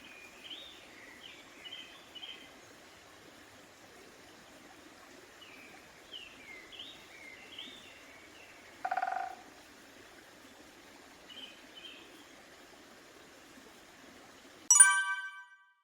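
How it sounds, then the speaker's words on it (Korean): An unknown bird calling in an acacia forest, short chirping phrases repeated at regular intervals, faint and distant in a quiet setting, with a couple of louder knocks breaking in. "아카시아 숲속에서 규칙적으로 들려오는 이름 모를 새소리에 이끌려 한참을 서서 바라보았다"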